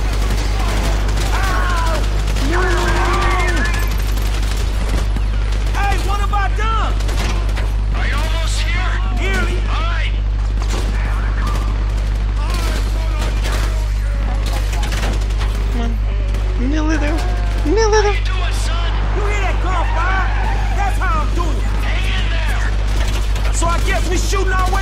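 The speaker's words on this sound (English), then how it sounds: "shooting our way out of here." Gunfire in Grand Theft Auto, a sustained chaotic firefight of rapid shots over a constant low hum, mixed with shouting voices throughout.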